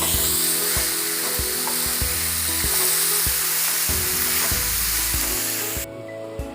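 Beef ribs sizzle loudly in a hot pan while a utensil scrapes and clanks in a repeated stirring rhythm; the frying sound drops off near the end.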